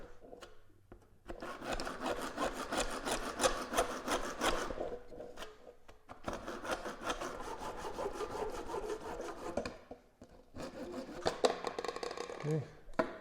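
Hand saw cutting through PVC pipe, a steady rhythmic rasping of back-and-forth strokes in a few runs separated by short pauses, fairly faint with a voice talking over it.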